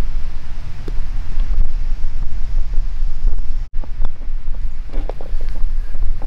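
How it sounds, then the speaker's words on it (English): Gusting wind buffets the microphone on an open golf green, a loud continuous low rumble with a brief dropout midway and faint light ticks from outside. "I can really feel the wind"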